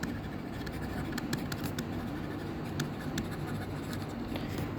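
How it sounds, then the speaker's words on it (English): A pen scratches steadily across paper as an answer to an accounting exam question is written out by hand, with short bursts of strokes over a low background hum; close, quiet, and without talk. "Let's write it down."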